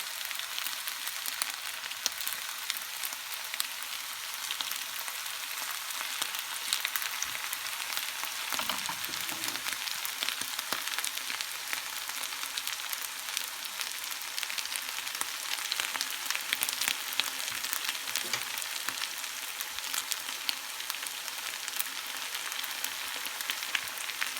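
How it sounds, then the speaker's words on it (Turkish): Continuous loud sizzling and crackling of potato-filled pastry rolls frying in hot oil in a pan, steady throughout with occasional soft bumps and stirs. "Yaptığımız patatesli rulolarımızı tavamızın içerisine bırakıp hepsini kızartalım."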